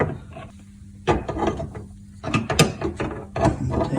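A faucet supply line fitting is tightened by hand under a sink, with short ratcheting clicks and scraping turns in bursts, close and fairly quiet.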